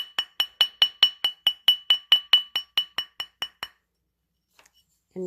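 A hammer strikes a herringbone weave wire ring in about sixteen evenly spaced, sharp metallic clinks over nearly four seconds, close and bright, followed by silence and a brief low thud.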